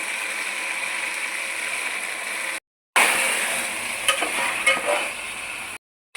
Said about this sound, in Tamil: இப்போ சிக்கன் ஆட் பண்ணிடலாம் ஃப்ரெண்ட்ஸ். நல்லா மசாலா போட்டு ஊற வச்ச சிக்கன்.